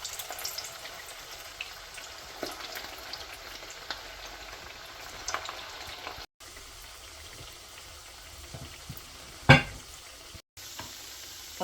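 Shami kebabs sizzle and fry steadily in a pan over a low flame, a continuous soft crackle with brief stirring and one sharper clatter near the end, no voices.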